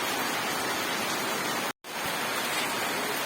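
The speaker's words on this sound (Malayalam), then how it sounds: "കിടിലൻ മഴ തന്നെ കേട്ടാ. സൂപ്പർ എക്സൈറ്റിംഗ് മഴ. ഇതാണ് മഴ." Heavy rain pours down in a dense, steady hiss that fills the scene, broken by one brief dropout.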